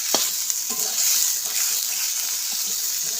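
Dried fish chutney is stirred in a pan over the heat, with a brief bright sizzling hiss, a few soft scrapes, and a watery bubbling texture close by.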